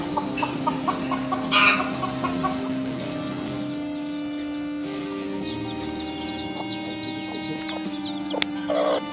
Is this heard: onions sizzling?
no